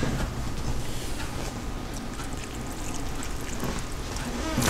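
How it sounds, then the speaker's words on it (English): Water is poured from close by into a pot of homemade borscht, giving a steady, muffled gurgling rush that runs evenly for several seconds without talk. "So I'm just gonna add some water."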